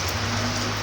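Steady rain falls in a dense, constant hiss that stays loud and even throughout, with a faint low hum beneath and no voices.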